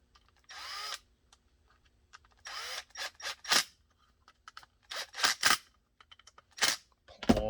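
A power drill drives half-inch screws into a magazine carrier, in a series of short, loud, whirring bursts with quiet gaps and small clicks between them.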